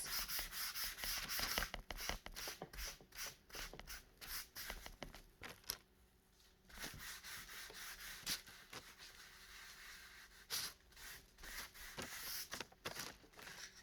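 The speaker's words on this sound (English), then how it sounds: "get your wax and just start smearing this all across." Wax is smeared by hand across foam board to make faux wood, giving close, quiet, irregular rubbing and scraping strokes with short pauses between passes.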